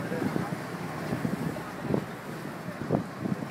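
Wind buffets the microphone in uneven gusts on an open Boston duck tour boat, a low rushing roar with muffled voices in the background.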